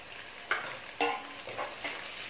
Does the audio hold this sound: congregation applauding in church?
no